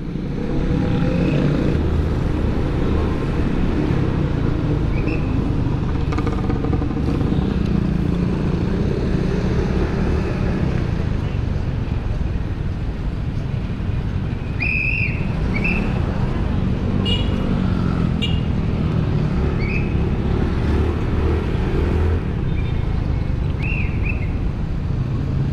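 Road traffic in the town centre of Tayug, Pangasinan, a continuous loud rumble of engines passing close by, with brief horn toots and high chirps cutting through now and then.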